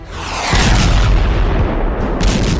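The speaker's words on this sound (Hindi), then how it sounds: "बम धमाके से तबाह होते हैं सुपर पावर के दुश्मनों के अड्डे।" Bomb blasts in a dramatic news trailer land as one loud, deep boom that swells and rumbles heavily for a couple of seconds.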